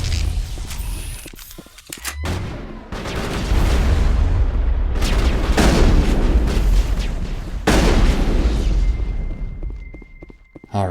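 Rocket blasts in Mass Effect: heavy, booming explosions with deep rumbling tails, a cluster of loud detonations rolling through the middle and fading into quieter rumble at the end.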